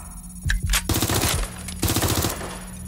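Machine gun fire in the video game Watch Dogs: Legion, two loud rapid bursts of automatic shots separated by a short pause, close and punchy with no talk over them.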